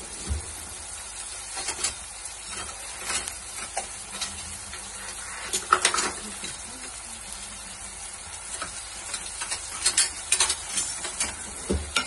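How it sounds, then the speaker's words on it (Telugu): Onion, green chilli and curry leaves fry in a pan with a steady crackling sizzle, broken by occasional louder pops and clinks of stirring, heard close with no talk. "ఇప్పుడు ఇది ఫ్రై చేస్తున్నా చూడండి"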